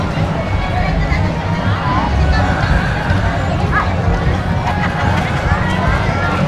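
Dense crowd babble fills a busy street during the Dinagyang festival in Iloilo, Philippines, a steady close wash of many overlapping voices with no pauses.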